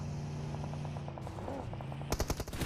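Gunfire in PUBG Mobile: a rapid burst of regularly spaced shots over steady background hum, then a louder, heavier volley of sharp reports near the end.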